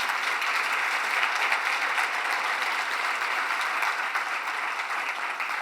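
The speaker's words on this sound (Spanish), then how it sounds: "gracias y un aplauso para todas esas personas" An audience at an institutional training forum applauds, a full, steady roar of many hands clapping that holds evenly from start to finish with no talking over it.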